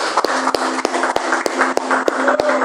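Congregation clapping hands in rhythm during a church prayer service, a steady series of sharp, evenly spaced claps over a continuous wash of hand noise.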